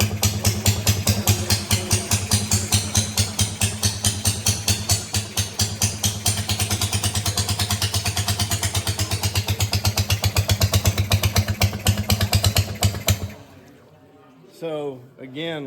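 A 1915 Hiawatha rowboat motor running with its exhaust cutout open, a loud, steady rapid popping putter close by that holds for about thirteen seconds and then cuts off abruptly, leaving faint mechanical sounds.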